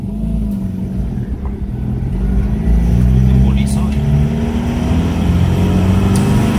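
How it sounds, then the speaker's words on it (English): A 2014 Land Rover 110 Puma turbo diesel engine rumbles steadily and loudly from inside the cabin while driving, with occupants talking over it. "Turbo diesel."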